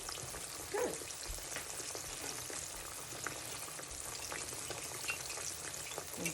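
Sliced green tomatoes fry in hot oil in a pan, giving a steady, close sizzling crackle with small pops scattered throughout and no talking.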